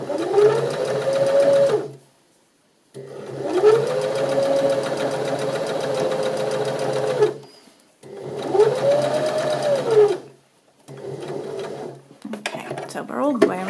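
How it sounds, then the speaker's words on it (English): A sewing machine runs in three long stitching bursts around a curve on a knit jersey neckband, separated by short pauses, close and loud, with brief handling noise at the end. "that's what you're going to do when you're sewing around a curve on an overlocker. So when you can do that on your sewing machine"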